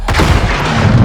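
A cannon fires in a video game cutscene, a loud booming blast with a rumbling, crackling tail filling the short moment, with no talk.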